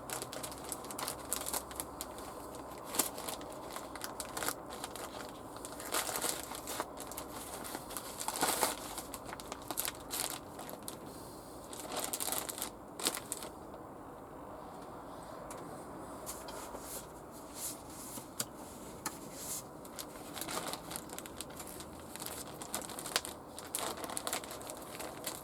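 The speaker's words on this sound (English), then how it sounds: "Plastic bag." A plastic bag crinkles and rustles in irregular bursts of sharp crackles with quieter gaps, fairly close and without talk.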